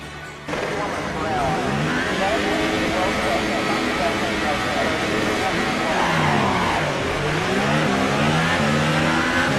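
Formula 1 race car engine in the F1 2018 video game, a loud continuous high-pitched whine rising and falling through the gears as it revs up and down, with a voice talking over it throughout.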